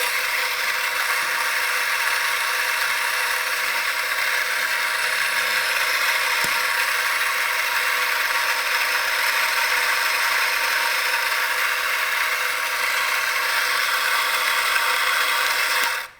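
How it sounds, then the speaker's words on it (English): A coffee grinder for a Rocket Espresso Giotto setup whirs steadily while grinding an espresso dose, a loud, even motor drone running for about sixteen seconds before cutting off abruptly. "Turn our grinder on."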